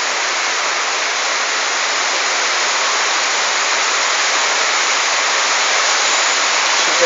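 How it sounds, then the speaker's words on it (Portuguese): Steady, dense rain pouring down heavily, a constant loud hiss with no letup and no voices. "Chovendo forte agora."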